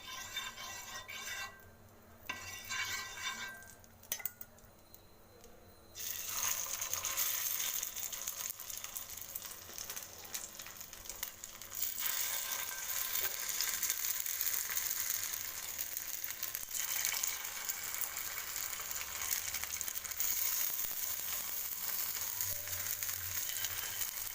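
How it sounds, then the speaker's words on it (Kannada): Poha cutlets shallow frying in a little oil in a pan give a steady, close sizzle and crackle that swells louder partway through and holds, with no talking. "ಶಾಲೋ ಫ್ರೈ ಮಾಡ್ತಾ ಇರೋದ್ರಿಂದ ಸ್ವಲ್ಪ ಎಣ್ಣೆ ಸಾಕಾಗುತ್ತೆ ನಮಗೆ"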